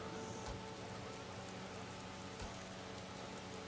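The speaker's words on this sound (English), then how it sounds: "It's raining." Rain falls steadily in a video game, Horizon Forbidden West on PS5, a soft continuous patter of drops on surfaces heard alone at moderate level.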